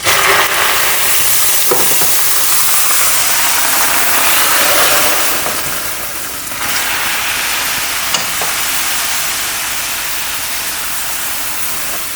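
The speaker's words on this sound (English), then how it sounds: "We are still stirring the milk, and it's come to a thick consistency, as you can see." Milk for caramel yogurt is stirred in a pot as it thickens, a loud continuous sizzling hiss with occasional scraping swells and a brief dip midway, no talking.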